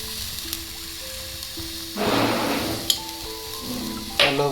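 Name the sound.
stirring elephant yam leaf thoran frying in pan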